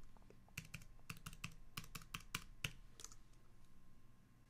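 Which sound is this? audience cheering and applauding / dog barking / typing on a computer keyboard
typing on a computer keyboard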